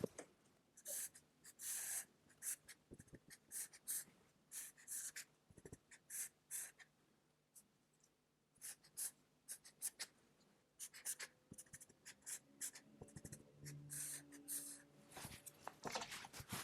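A pen drawing an example on paper, quick scratchy strokes in short irregular bursts with pauses between, close and fairly quiet.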